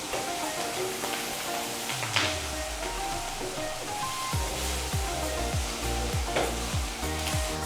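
Green chillies fry in a pan of oil for an Andhra-style gongura chutney, giving a dense, continuous sizzle with occasional stirring scrapes, close and steady throughout, with no talking.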